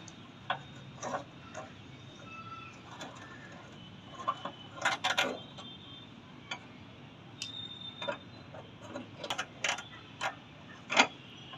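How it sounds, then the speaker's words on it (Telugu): A screw being unscrewed during a gas stove repair gives sparse, faint ticking clicks at irregular intervals, quiet close-up taps with no talking. "తీస్తుంటే టప్ టప్ సౌండ్ వస్తుంది"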